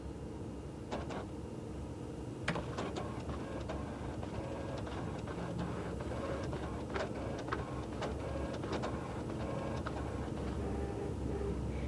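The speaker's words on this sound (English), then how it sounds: "That's what the printer's for." A 1991 library printer runs steadily for several seconds, a continuous mechanical whir broken by repeated clicks and ticks as the page feeds through.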